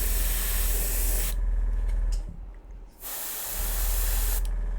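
An airbrush sprays paint with compressed air in a miniature-painting setting, giving a loud close hiss in two bursts separated by a brief pause, with no talking.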